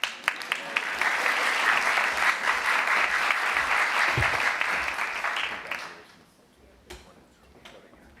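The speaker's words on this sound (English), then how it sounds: "Applause is fine." A full audience gives sustained, dense applause for finalists at a university Grad Slam research-talk competition, then it fades off into a quieter room with scattered sounds.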